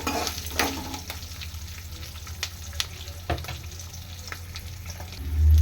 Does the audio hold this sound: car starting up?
no